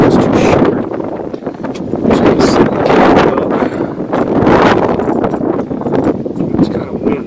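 Gusts of wind buffet a nearby microphone in loud, rumbling waves, rising and falling every second or two.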